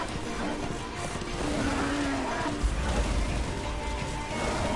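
A horse gallops in the video game Darksiders 2. Its hoofbeats clatter within a dense, loud game soundscape, with a continuous wash of effects and background noise running throughout.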